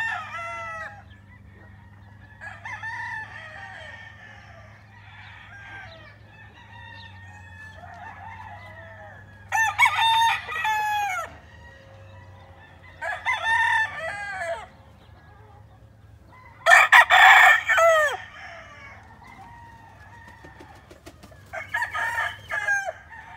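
Breeding hens and roosters in a farm pen: several roosters crow in repeated bursts, some near and loud, others softer, over low clucking and a steady background hum.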